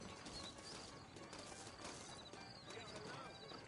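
Horse hooves clip-clop at a walking pace in a Red Dead Redemption game soundscape, saddled horses, with faint bird chirps and ambient noise behind, quiet overall.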